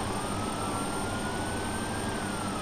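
A steady, droning police siren wail in the game Arma 2, with a slowly shifting pitch over dense engine-like rumble during a car pursuit, loud and continuous throughout, with no talking.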